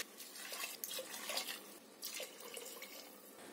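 Water splashes and trickles quietly as 3.5 cups are poured into a pot of roasted rice and whole moong dal for khichdi, a continuous gentle pour with small bursts and no talking.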